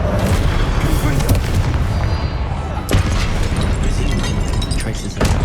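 Confringo spell explosions in the game Hogwarts Legacy, loud booming blasts over a dense rumbling battle roar, with sharp hits around the middle and near the end, and shouting voices mixed in.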